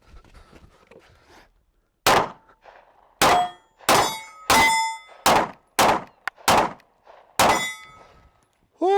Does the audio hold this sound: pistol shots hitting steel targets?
yes